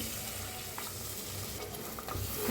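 Masala for misal pav roasts in oil in a pot, a soft continuous sizzle with faint stirring scrapes, close and fairly quiet, with no voices.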